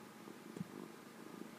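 Domestic cat purring up close, a soft steady rumbling purr with faint rhythmic pulses, quiet and alone.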